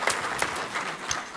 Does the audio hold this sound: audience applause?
yes